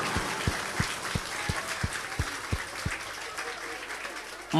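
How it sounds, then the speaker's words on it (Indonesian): Rhythmic group clapping from an audience at a gathering in an Islamic Qur'an boarding school, about ten even, unison claps at a steady beat over a murmuring room, fairly faint. "Tepuk tangan untuk Mas Ali."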